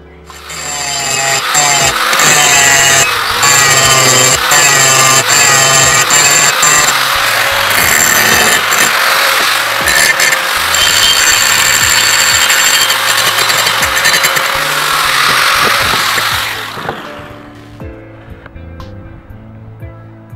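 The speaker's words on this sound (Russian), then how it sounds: "после окончательной обварки швов можно их окультурить заточным камнем. Снимаем лишний металл," Grinding stone working down welded steel seams on a rectangular-tube frame, a loud sustained abrasive whine with gritty scraping that runs steadily for about sixteen seconds, then cuts off and spins down into quiet.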